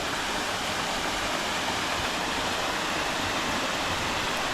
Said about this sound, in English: Yeah, it's a waterfall.